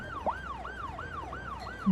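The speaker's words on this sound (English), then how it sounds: "And here's the ambulance." Ambulance siren in the city-building game Cities: Skylines, a clean wailing up-and-down tone repeating about five times in quick cycles, steady and moderately loud with no talking.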